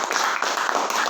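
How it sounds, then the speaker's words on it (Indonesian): Applause for a company leader at a morning dealer gathering: a dense, steady wash of clapping from a crowd, loud and continuous for about a second with no voices on top. "Tepuk tangan buat leader besar kita."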